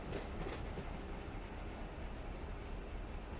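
A freight train rolls toward a rail yard in a simulator game, giving a steady, continuous rumble and rattle of railcars with faint clickety-clack throughout and no voices.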